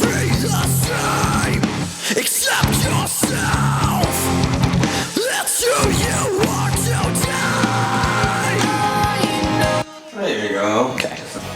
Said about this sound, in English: We were able to just get a phenomenal scream sound for this track